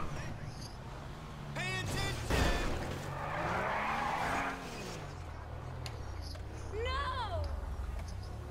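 Car tires skidding and squealing in Grand Theft Auto V as a vehicle is parked, with engine drone rising and falling beneath a continuous commentator's voice.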